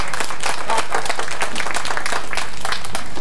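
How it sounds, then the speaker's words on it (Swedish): A crowd at a live jazz band show in a city department store claps loudly and continuously, a thick wash of many hands running from start to finish. "Jag ger honom en liten applåd."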